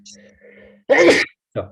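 A single sharp sneeze bursts out at close range in a classroom, preceded by a brief spoken word and followed by a short breathy sound.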